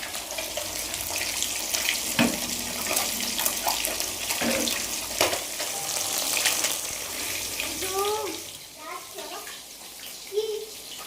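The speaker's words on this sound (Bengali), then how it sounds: "ডিম ভাজা যে করছি, এই যে ডিম ভাজার ওপরে পরোটাটা দিয়ে দেবো" An egg fries in a pan for a paratha, giving a steady, close crackling sizzle throughout, with brief clinks and a voice murmuring near the end.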